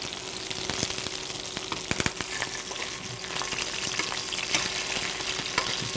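Quail fries in a pan with fresh thyme, a soft, constant sizzle with scattered pops and crackles and a few sharper spits, heard alone without talk.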